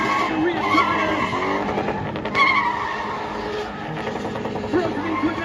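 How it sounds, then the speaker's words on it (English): A spinning motorcycle's rear tire squeals and skids continuously at a spinning show event, the loud sustained screech sitting over engine roar and crowd noise, with a voice talking over it. "Man runs the smoking through the rear tires"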